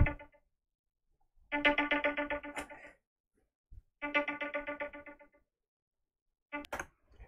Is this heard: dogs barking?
no